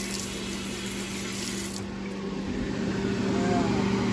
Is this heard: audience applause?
no